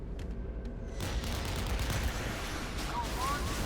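Artillery in the Modern Warships naval combat game fires as a dense, rumbling barrage that swells suddenly and holds loud and continuous. A faint whistling tone cuts in near the end.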